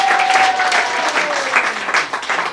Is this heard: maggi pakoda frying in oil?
no